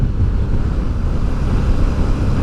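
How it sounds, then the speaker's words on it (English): Gusty wind buffeting a rider on a motorcycle crossing a mountain pass at Col du Lautaret, a steady loud low roar of wind noise across the microphone with no pauses. "Oh, it's a bit windy."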